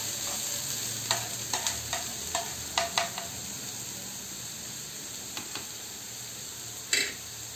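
Onion frying in a pan for sandage bhaji, a steady close sizzle broken by a series of sharp scraping stirs, then a brief louder scrape near the end; no voices.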